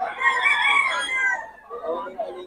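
Roosters crow loudly and close at a busy Bocaue market, one long drawn-out call followed by a second, shorter crow, with clucking and muffled talk in the background.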